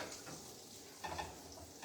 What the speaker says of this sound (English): I think I can hear that sizzling